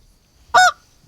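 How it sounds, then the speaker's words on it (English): A single loud goose honk during a Minnesota early goose hunt, sharp and nasal with clear harmonics, standing alone over near-silence for about a fifth of a second. "Zach, you heard them geese anymore?"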